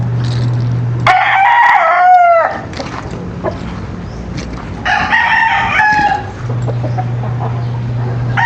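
Roosters crowing loudly nearby on a small breeding lot, two long crows a few seconds apart, with hens clucking and low farmyard chatter between them.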